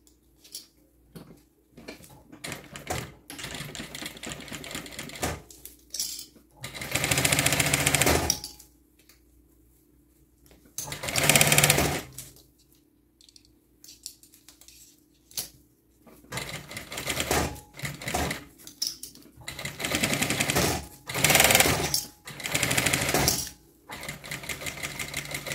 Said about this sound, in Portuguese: agora eu costuro de novo